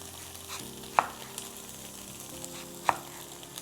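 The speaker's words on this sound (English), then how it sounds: "we're just gonna fry it in a pan with a bit of butter" Tofu fries in a pan with a little butter, a soft continuous sizzle broken by two sharp utensil taps against the pan, heard up close without talk.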